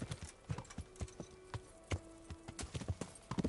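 Horse hooves clip-clop in the medieval game Kingdom Come Deliverance, a quiet, uneven series of hoof strikes at a walking pace, with a few louder knocks near the end.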